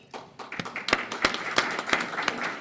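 A small meeting audience claps for standing committee members, a handful of people giving scattered, uneven hand claps that build and continue nearby.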